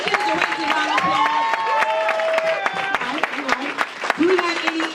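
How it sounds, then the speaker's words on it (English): A room full of people applauds and cheers for directors being recognized at a business leadership event, the clapping loud and continuous with whoops and voices weaving over it, some tonal, singing-like calls standing out above the crowd noise. "Let's give the directors a round of applause."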